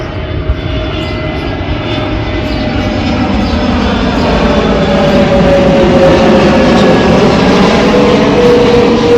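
A loud airplane engine roars steadily overhead, its drone slowly building and shifting in pitch as it passes.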